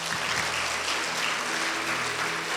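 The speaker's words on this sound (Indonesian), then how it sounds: "Tepuk tangan buat Tuhan Yesus." A congregation claps during a Sunday church service, a steady, full wash of applause heard from a moderate distance, with a faint tonal hum beneath.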